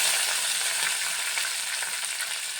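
Green chillies fry in hot oil as an onion-light vegetable stir-fry is prepared, giving a steady, dense sizzle that holds even and close throughout with no voices.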